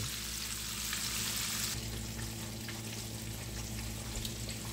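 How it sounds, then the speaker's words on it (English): Steady crackling sizzle of perch, swai or catfish frying in hot oil, continuous and close, with a brighter hiss in the first couple of seconds. "So that fish is still frying"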